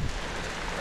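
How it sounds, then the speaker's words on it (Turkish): Heavy rain heard while cycling on a road bike in Istanbul, a dense steady wash of noise with a brief rougher burst at the start. "Şu anda yağış bayağı bir arttı."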